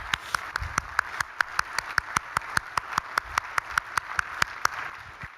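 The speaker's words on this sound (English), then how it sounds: "let's have a big round of applause for Rob" Applause for Rob at a conference plenary, heard as a single pair of hands clapping in a steady, evenly spaced rhythm, crisp and fairly close over a quiet room.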